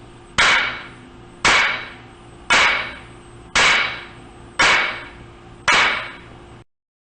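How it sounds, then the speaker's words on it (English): Six regular blows of a ball-peen hammer on a wood block, each a loud, close knock with a short fading tail, spaced about a second apart with nothing else heard. "Here is the sound of a ball-peen hammer striking a wood block."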